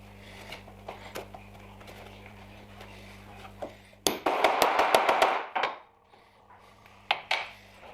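Sharp metallic whacks from a hammer setting rivets into a leather blacksmith's apron, a dense burst of strikes in the middle followed by a few isolated knocks, close and fairly loud over a low steady hum.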